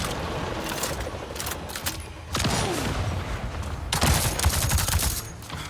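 Rapid gunfire from a gun in Avatar: Frontiers of Pandora, a loud, continuous volley of shots with a sharper burst near the end amid ambient game sound.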